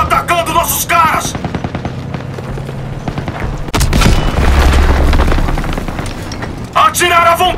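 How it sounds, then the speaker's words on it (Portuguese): Call of Duty WWII street combat with small arms fire and heavy booming explosions, rattling bursts and a big blast midway, while dubbed soldiers shout over the fighting. "Tiros de armas leves!"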